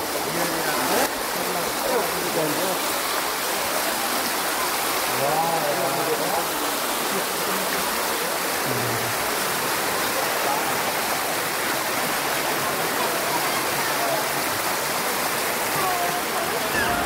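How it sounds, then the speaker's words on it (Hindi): Water rushing down the stone steps of Galta Ji temple in Jaipur, Rajasthan: a loud, continuous, even roar of flowing water, close and unbroken throughout. "सीढ़ियों पे पूरा पानी आ रहा है।"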